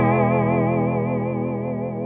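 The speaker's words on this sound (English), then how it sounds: "it's basically a dual voice vibrato effect" A Hardwire TR-7 guitar pedal runs its dual voice vibrato on a sustained guitar note, the pitch wavering in a steady, regular shimmer that stays loud and even throughout with no voices.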